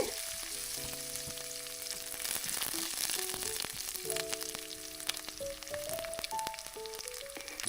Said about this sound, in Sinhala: දැන් මේ ටික හොඳට කලවම් කරන ගමන් රන්වන් පාට වෙනකම් බැදෙන්න දෙන්න.